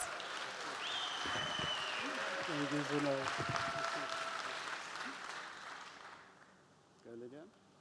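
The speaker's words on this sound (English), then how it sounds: "give them a well-deserved round of applause" Conference audience at the Build Africa 2025 real estate event clapping for the Vorster family, a broad wash of applause under a few speaking voices, tapering off toward the end before a brief voice returns.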